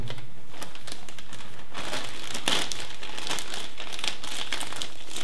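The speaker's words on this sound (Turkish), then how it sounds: "Yine bir kargo poşeti yırtma operasyonu." Plastic shipping bag being torn open to unbox a LaCie Rugged drive, a run of close, loud crinkling and ripping bursts that continue unbroken without any talk.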